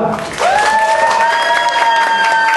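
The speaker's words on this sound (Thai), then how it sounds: "ขอเสียงปรบมือให้ตัวเองหน่อยครับ" Audience applauding at a concert, a dense burst of clapping that rises sharply and holds, with a sustained sung or instrumental tone above it.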